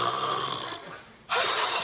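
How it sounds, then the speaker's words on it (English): Exaggerated, cartoon-like snoring, loud and close: one long rasping inhale, a brief lull, then a sudden, harsh burst of snore noise. "I've never heard anyone snore like that in my entire life"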